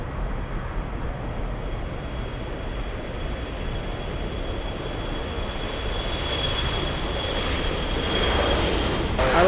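A Boeing 777 airliner at LAX airport gives off a loud, steady jet engine roar that swells slightly toward the end, with a faint radio voice in the background.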